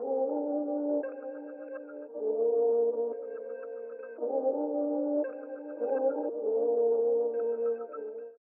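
A music sample texture run through compression and saturation into an Arturia Rev Plate 140 plate reverb, playing as a sustained, repeating chordal pattern with a looping rhythm, moderately quiet and alone.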